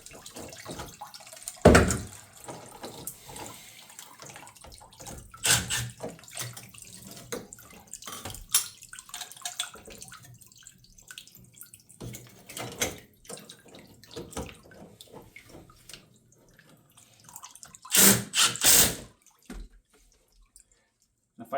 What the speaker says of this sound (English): Now we're going to take this off, and then we're going to see how it drains.